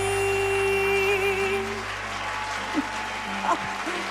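Studio audience applause in a TV variety show, a steady dense clapping that fills the clip at close range, with a faint sustained tone running beneath it.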